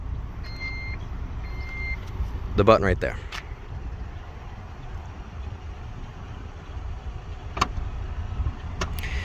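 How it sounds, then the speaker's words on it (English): The power liftgate of a 2021 Buick Envision Preferred closes outdoors: a few short warning beeps sound, then a brief motorized sweep and latch, with someone talking over it and faint clicks later. "And to close the liftgate, you can use any previous method I previously mentioned"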